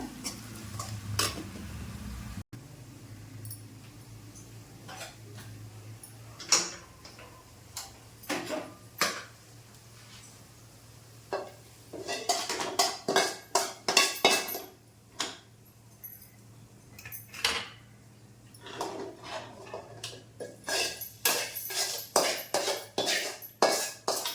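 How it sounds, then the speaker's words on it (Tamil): A hot tempering being mixed into sambar rice, with a long run of ladle and spoon clinks and scrapes against a vessel, irregular and close, growing busier toward the end over a faint background hum. "இதை வந்து எடுத்து இப்போ நம்ம அது கூட ஊற்றி கலக்க போகிறோம் சாதத்துக்கூட"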